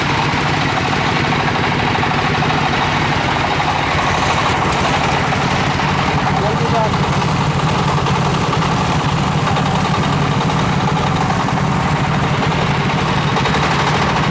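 A 10 kW diesel generator runs loud and steady after a key start, a dense rumbling engine drone with a rough, chattering texture that holds level throughout.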